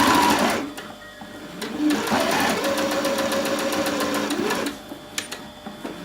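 A sewing machine stitches around the neckline of a little blue dress, chattering in rapid, even bursts with short pauses between runs, close and clear with no talk.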